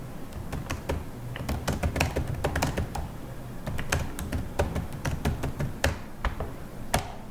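A comment being typed on a computer keyboard: quick, irregular clicking keystrokes, close and clear, with no talking.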